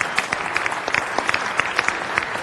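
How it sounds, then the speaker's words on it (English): A city council meeting audience applauds actor Blair Underwood as he stands up, a brief burst of many hands clapping with sharp individual claps audible within the steady crowd. "give you a round of applause?"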